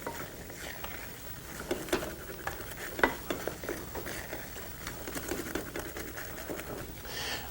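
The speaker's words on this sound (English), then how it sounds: "Don't forget to keep stirring." Chickpea flour being stirred in a pan for laddu gives a continuous soft scraping and pattering, with small irregular clicks of the spoon against the pan throughout.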